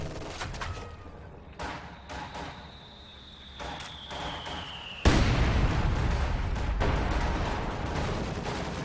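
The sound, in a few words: ZiS field gun barrage, video game Company of Heroes 2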